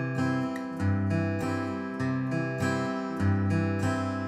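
Acoustic guitar flatpicked: a bass note, then a quick upstroke on the fourth string, then a full strum, repeated in an even pattern, close and clear with no talking.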